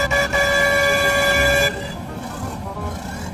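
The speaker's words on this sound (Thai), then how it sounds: "เสียงดังชัดเจนเลยนะแตรนะแตรลม" An air horn on a harvester in Farming Simulator 19 blasts loud and steady for over a second, then cuts off, leaving engine rumble underneath.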